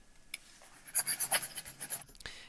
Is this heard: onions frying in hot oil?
no